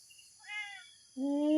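An abandoned stray kitten meows twice, close and clear: a short, thin cry followed by a louder, rising one.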